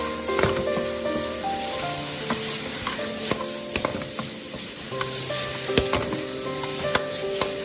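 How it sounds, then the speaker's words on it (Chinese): Carrots and wood ear mushrooms stir-fried in a wok over high heat: loud, continuous sizzling with frequent sharp spatula scrapes and clanks in an uneven rhythm, close and without speech. "这个时候开大火， 快速的翻炒"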